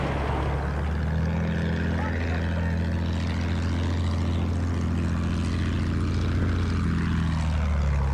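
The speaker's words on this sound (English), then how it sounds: "Plane spotted!" A propeller-driven attack plane engine drones steadily throughout in the Battlefield 1 video game, a continuous, fairly loud hum with shifting pitch and battle noise layered underneath.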